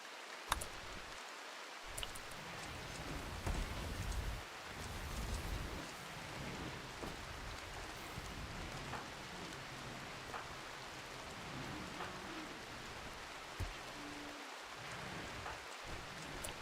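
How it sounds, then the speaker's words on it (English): Steady rain falls in the video game RimWorld, a continuous hiss with a few low rumbles of thunder, heard alone without voices. "Yeah, there is definitely some rain."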